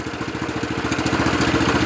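A Loncin LC-750 walk-behind tractor's single-cylinder engine idles close by at about minus 8 degrees, chugging in a fast, steady rhythm with a rough, throbbing low end.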